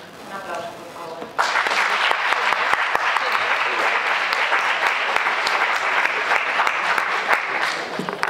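An audience at a women's week literary event bursts into applause after a spoken introduction, a sudden, loud, sustained wash of many clapping hands that holds steady to the end.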